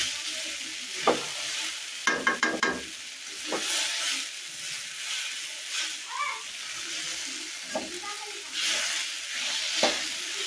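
Potatoes fry in a pan in a village kitchen, a steady sizzle broken by scraping stir strokes and a few sharp clanks of the spatula, close up with no talking.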